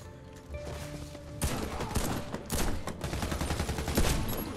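Rapid gunfire in the first-person shooter Warface, with loud bursts of shots following one another in quick succession, fairly dense and continuous, starting softer and growing heavier toward the end.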